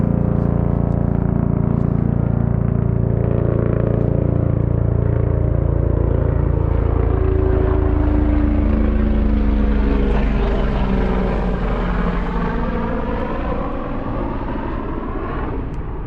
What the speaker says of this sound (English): What that crazy noise is, man. That helicopter. Seriously, that sounds psycho.